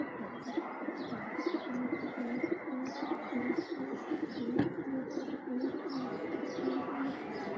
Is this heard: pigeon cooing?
yes